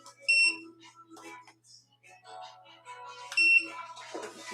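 A plugged-in device gives two short high electronic beeps, one near the start and one about three seconds later, clear and close, with quiet household sounds and a brief voice in between.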